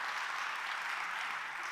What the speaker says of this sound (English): It's nice of you to clap